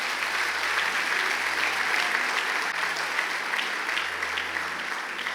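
A church congregation applauds in a dense, sustained wash of clapping that fills the hall evenly, a steady crowd sound with no clear individual claps standing out.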